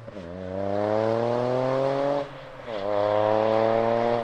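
A Toyota Yaris GR 261 hp turbo three-cylinder engine on a track, a loud close rasping pull rising in pitch, a brief drop at a gear change, then another strong climb.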